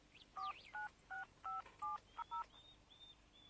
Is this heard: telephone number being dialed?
yes